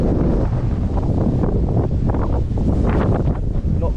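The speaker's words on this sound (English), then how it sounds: "Got waves on the Thurn." Steady wind roar with choppy river waves splashing and lapping, loud and continuous, buffeting the microphone throughout.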